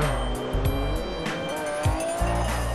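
A McLaren race car in Forza 4 lapping the Nurburgring: high-revving engine droning with rapid gear-change dips, tires squealing through corners, close and loud, with no talk.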